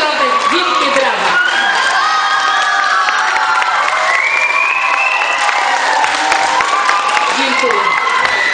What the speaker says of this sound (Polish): Zapraszam na środek. Wielkie brawa.